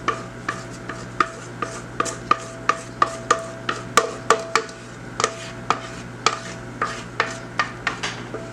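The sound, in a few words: scraping chocolate cake batter out of a bowl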